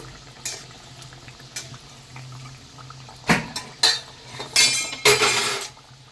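Thekua frying in hot white oil in a wok over a lowered flame: steady soft bubbling broken by several louder bursts of sizzle, with light clinks of utensils against the pan.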